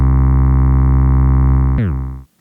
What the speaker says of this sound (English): I can add an envelope like this